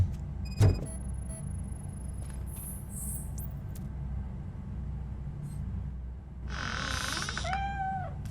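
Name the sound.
cat meowing in video game Robocop: Rogue City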